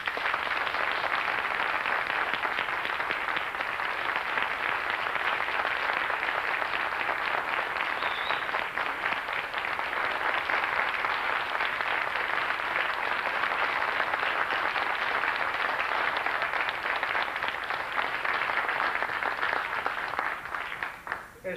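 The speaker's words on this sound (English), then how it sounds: "How about a nice round of applause?" Sustained audience applause at a 1991 oratorical contest, a dense, even wash of many hands clapping at steady loudness for about twenty seconds before tapering off at the end.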